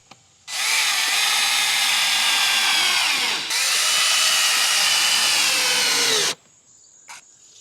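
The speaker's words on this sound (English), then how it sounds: "I find it's much faster to just take that hex bit and put it in a cordless drill if you have one." A cordless drill with a hex bit drives a ground screw for a sprinkler into the soil, whirring loudly and continuously in two long bursts with a brief pause between them, then stopping.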